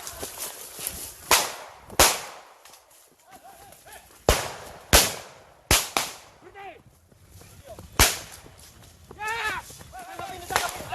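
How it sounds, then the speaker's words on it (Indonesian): Police fire warning gunshots during a raid on a cockfighting gambling ring, loud sharp cracks going off about eight times at irregular intervals amid shouting and commotion. "Polisi pun memberikan tembakan peringatan agar mereka menghentikan usaha untuk kabur."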